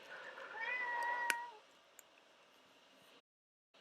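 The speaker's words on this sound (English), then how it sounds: "Cat saying hello there." A house cat gives one drawn-out, rising-and-falling meow close by, followed by a couple of faint clicks and quiet room tone before the sound cuts out.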